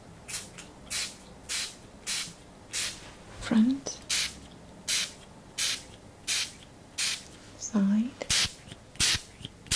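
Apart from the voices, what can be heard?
spraying Douglas fir hydrosol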